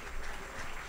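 Short burst of audience applause at a formal address, a soft, distant wash of many hands clapping.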